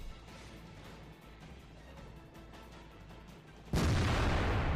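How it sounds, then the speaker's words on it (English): A heavy IS-6 tank cannon fires in World of Tanks, one loud sudden blast near the end that follows a stretch of steady rumbling engine and battle background, with the boom holding at full level to the close. "Bit of a low probability shot there, but it's better to take the shot."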